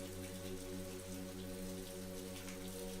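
Soft, steady rainfall patters faintly on a rainy walk in Scotland, with low sustained tones humming underneath throughout.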